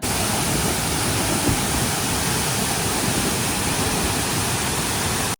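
A constant roaring rush of falling water from a waterfall near Cherrapunji, Meghalaya, fills the air, broad and unbroken, with no voices.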